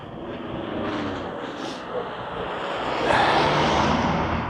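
A drone flying overhead in winter in Tirano, northern Italy, a steady airy whir that grows slightly louder toward the end, close and continuous, with no talk.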